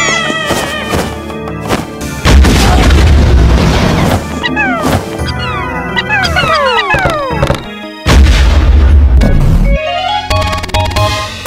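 Bomb rocks exploding in the Pikmin video game, heard as loud booming blasts amid a busy, chaotic mix of game sound effects and sweeping tones, with several heavy bursts close together.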